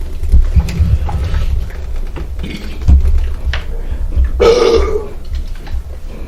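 A person burping after drinking: several loud, low, gurgling belches very close up, spread unevenly across the moment, with some faint rustling between them.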